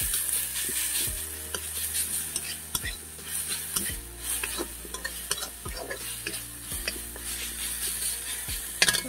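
Onions and garlic frying in a pan give a steady sizzle, broken by a series of regular, close scraping strokes from a stirring utensil, with no talking.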